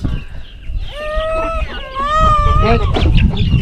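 A rooster crows loudly nearby in one long wavering call while chickens cluck in the background, in a fog-covered hill village in Thanchi, Bandarban, during monsoon season.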